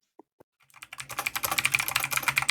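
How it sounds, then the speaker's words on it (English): Fingers typing on a computer keyboard: two isolated taps, then a steady run of quick, close key clicks with no talk over them. "Typing on a computer."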